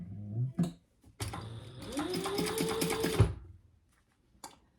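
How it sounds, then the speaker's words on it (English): A sewing machine stitches a vinyl bag handle in a short, fast burst of about two seconds, with a rising motor whine, framed by a few handling clicks and thumps before and after. "So let's sew our handle."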